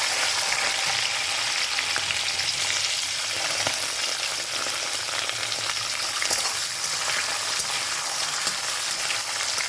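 Grated coconut and soaked chickpeas fry in oil in a pan for a vegetarian Bengali taro-leaf dish, giving a steady, close, crackling sizzle with faint stirring and no talk.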